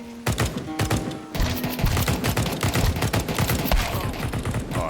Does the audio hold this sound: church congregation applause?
no